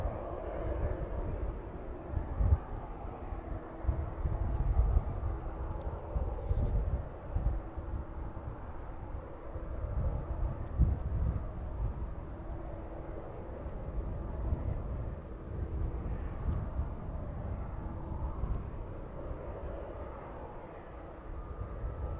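An aircraft taxiing toward the apron at East Midlands Airport in the evening makes a low engine drone that swells and eases with small surges, heard at a moderate distance and without talk.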